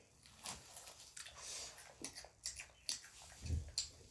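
Quiet, close crunching bites and chewing of crispy fried chicken by a young child, irregular little crackles over several seconds, faint and intimate.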